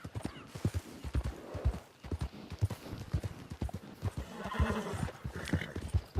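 Horse hooves clip-clop steadily and close in Red Dead Redemption 2 online beta, a weak, quickly tiring horse trotting in an irregular rhythm with occasional snorts or whinny-like sounds.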